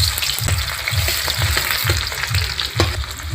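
Chopped onion hits hot oil already seasoned with dried red chillies, whole cumin, bay leaves and whole garam masala, sizzling and crackling steadily up close, with a regular pulse of stirring across the pan and no talking.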